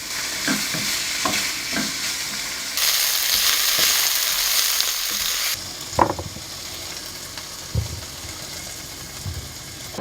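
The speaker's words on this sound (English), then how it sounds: "we're gonna cut these up into little like bite-sized pieces and then just throw it in the skillet" Bite-sized pork chop pieces sizzle in a skillet, a steady frying hiss broken by a loud burst of spitting and several sharp scraping stirs and clinks, with no talking.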